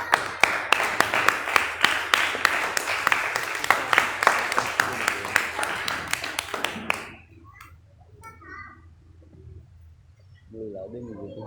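Applause at a Kyokushin karate belt promotion ceremony, a crowd clapping steadily and fairly close for several seconds before fading out, followed by quiet background and a brief voice.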